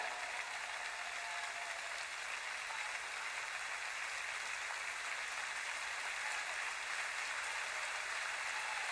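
Sustained applause from a large congregation at a church worship service, dense and steady throughout, with no pauses or talking.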